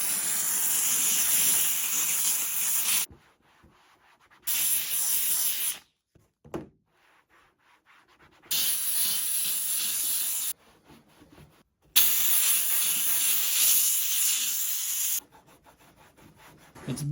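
A steam gun hisses as it sprays hot water onto the door panel of a Land Rover Discovery 2, in loud, harsh bursts of a few seconds each, separated by quiet pauses.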